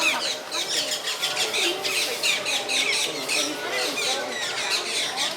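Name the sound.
birds squawking in a zoo aviary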